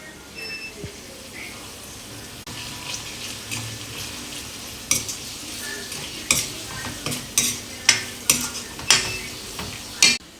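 Ginger garlic paste frying in a pan for a keema methi tomato curry, a steady background sizzle broken by sharp, regular scraping strokes of a spatula that grow more frequent toward the end.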